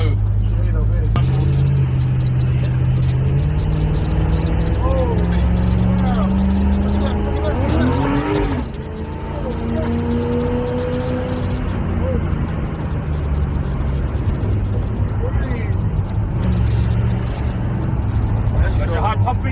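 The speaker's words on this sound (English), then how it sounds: "That's a V8." An old-school car's V8 engine drives past, a low rumbling drone that rises and falls in pitch as it accelerates, with people talking over it.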